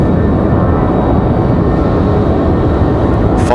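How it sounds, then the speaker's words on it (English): A JetBlue Airbus A320 jet airliner roars loudly and steadily at Raleigh-Durham International Airport, a dense, continuous engine rumble with no pauses. "So JetBlue out of here as well, that A320."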